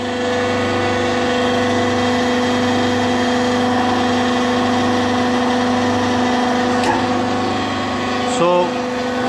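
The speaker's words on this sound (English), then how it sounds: "So let's start it. We've got the switches here. This is a small motor. And this is a big motor." Motor of a 500-ton hydraulic press running with a steady loud drone and hum, a continuous mechanical tone holding throughout, with a brief clunk near the end.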